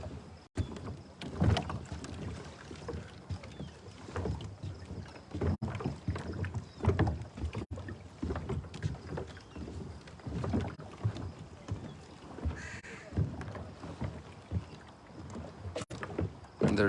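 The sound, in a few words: big boats with powerful engines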